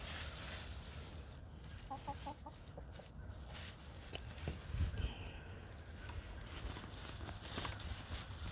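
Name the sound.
chickens clucking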